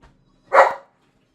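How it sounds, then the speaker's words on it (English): A dog gives a single short bark, loud and close, preceded by a faint small sound and then silence. "I'm right here, you silly dog."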